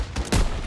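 Short burst of gunfire from the Call of Duty WWII Fortaleza church mission, a sniper shot amid a firefight, with a loud sharp blast in the middle over a steady noisy battle background.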